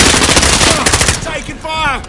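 Loud, rapid machine gun bursts in a Call of Duty Modern Warfare match, dense continuous firing up close that thins out toward the end as brief voice-like chatter emerges.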